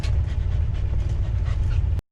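Dogs panting steadily and close up during a stop on an RV trip, a quick rhythmic breathy huffing over a low rumble that cuts off abruptly.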